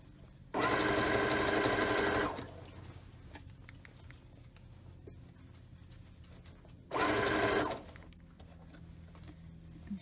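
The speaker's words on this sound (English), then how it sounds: "then we just sew it in place." A sewing machine stitching an apron skirt runs in two bursts of steady motor whir, the first about two seconds long and the second shorter, with quiet room hum between them.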